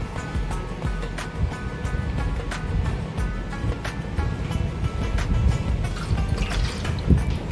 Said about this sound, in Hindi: मैं 2 गिलास पानी इसमें ऐड करूँगा।